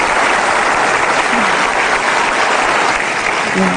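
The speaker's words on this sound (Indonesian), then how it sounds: "Luar biasa, kita kasih tepuk tangan." A studio audience at an Indonesian talk show breaks into loud, dense applause, a continuous wash of clapping that holds steady throughout, with faint voices beneath.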